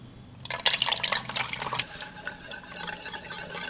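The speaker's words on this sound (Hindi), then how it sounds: "इसमें बटर मिल्क मिला रहे हैं।" Buttermilk being poured into beaten egg in a mixing bowl produces a short, close liquid splash and trickle that lasts about a second and a half, followed by soft, faint residual dripping.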